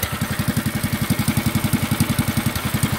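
A small engine fitted to a motorized shopping cart runs at a steady idle, a close, regular low chugging pulse with a faint clattering edge, alone throughout.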